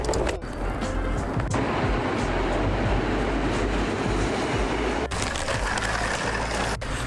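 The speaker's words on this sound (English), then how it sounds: "now train at the prettiest train station in Poland" A train rumbles steadily at Wałbrzych Miasto station in Poland, a dense continuous roar of wheels and carriages with a few brief dips, no voices.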